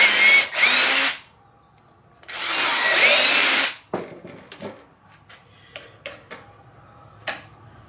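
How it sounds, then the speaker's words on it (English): A power drill bores holes in wood for a heavy duty mop, with two loud whirring bursts of about a second each, followed by scattered clicks and knocks of handling and light tapping. "So I'm going to drill in about halfway on each side"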